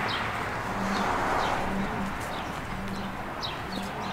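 Pigeons coo in a cage at a petrol station, soft low repeated coos every second or so over steady outdoor background noise, with occasional higher chirps and no speech.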